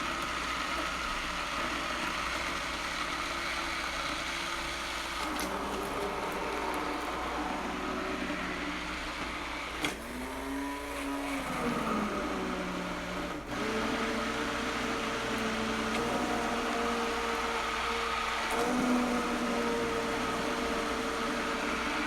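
A stick blender whirs steadily in a pan of hot bisque, a continuous motor drone that shifts in pitch as it works through the soup, with a brief dip midway.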